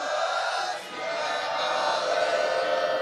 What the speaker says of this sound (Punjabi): ਗੱਜ ਕੇ ਜਕਾਰਾ ਗਜਾਇਆ ਬੋਲੇ ਸੋ ਨਿਹਾਲ